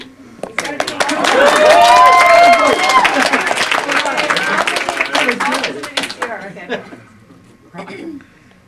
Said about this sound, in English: Is that all the applause he gets?